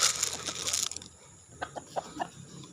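Roosters in a yard being fed grain: clucking fowl with a burst of scratchy pecking early on, then a few short, distinct clucks standing out against quiet background.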